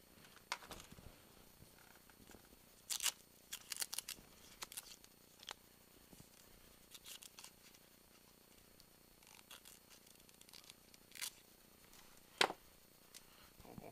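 Scissors round the corners of a paraglider fabric patch for a hole repair, heard as scattered sharp snips and crisp clicks in short groups with quiet gaps, near and otherwise silent.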